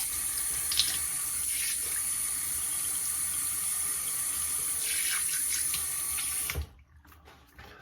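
Tap water runs steadily into a sink for rinsing after a shave with a Merkur 34G razor, a constant close splashing rush with no talk that cuts off abruptly near the end, leaving a quiet room.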